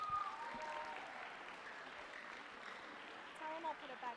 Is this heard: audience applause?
yes